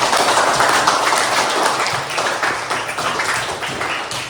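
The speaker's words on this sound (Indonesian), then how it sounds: "Ya betul, tepuk tangan untuk teman-teman." Classroom of fourth-grade pupils clapping for their classmates during a Quran reading lesson, a dense, steady burst of close applause that runs the whole time and eases slightly toward the end.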